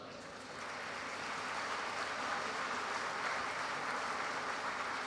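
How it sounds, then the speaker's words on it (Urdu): Students applauding together at an academic ceremony, a dense sustained wash of clapping that swells in the first half second and holds steady, with no voices on top. "اپنے والدین کے لیے زوردار تالیاں بجائیں"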